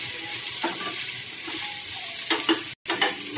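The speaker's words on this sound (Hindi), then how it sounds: "थोड़ा सा हम हींग डालेंगे और प्याज हम डालेंगे, हल्का सा हम भून लेंगे मसाले को" Asafoetida and chopped onion frying in hot oil as tempering for a spicy chicken gravy, a steady close sizzle with stirring scrapes and a brief clatter near the end.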